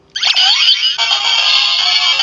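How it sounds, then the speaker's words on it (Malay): Bright electronic jingle from a Kamen Rider DX Gashat toy's win effect, a short, loud, tinny chiptune burst that sweeps up and then holds a busy sustained tone, with no talking. "Okey, bunyi menang. Itu bunyi yang macam keluar ni."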